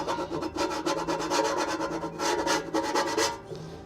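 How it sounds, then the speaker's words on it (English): Scrubbing a baked-on-grease air fryer part in a sink to remove a cleaning chemical, a steady close rasping rub in quick repeated strokes that briefly pauses and resumes. "I'm just gonna scrub this in the sink and get the chemical off."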